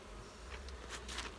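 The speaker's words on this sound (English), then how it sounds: "this hive is much busier than the other one. The bees have nectar." Honey bees at a busy beehive buzz in a soft, continuous drone, with individual bees passing closer now and then.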